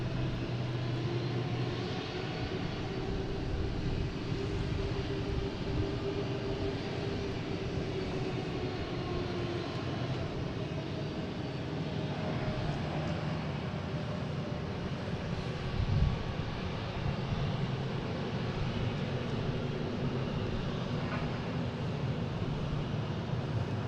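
An Embraer E175 regional jet takes off at Boston Logan airport, its engine roar broad, steady and sustained, heard from a distance with constant airport background and no voices.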